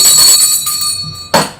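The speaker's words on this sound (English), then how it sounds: "I think I've got to ring my bell." A podcast host strikes a bell, ringing in a bright tone that decays over a second before a second sharp strike rings out near the end.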